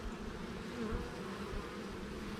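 Bees buzz steadily around a brood frame lifted from a beehive, a dense, close, continuous drone of many wings without talking.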